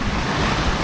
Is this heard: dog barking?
no